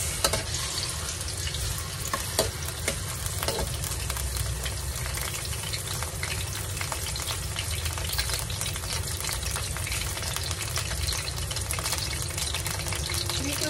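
Onions sizzle steadily in a hot pan as they are sautéed for bihon pansit, a continuous crackling fry close by with faint clinks of stirring throughout.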